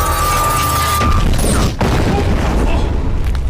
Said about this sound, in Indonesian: Profesor Kitlan justru bunuh diri dengan meledakkan dirinya